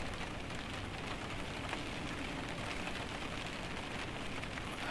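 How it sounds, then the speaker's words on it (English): Steady rain falling and pattering on surfaces, a dense, even hiss that stays constant throughout with no voices. "Oh, look, it's raining."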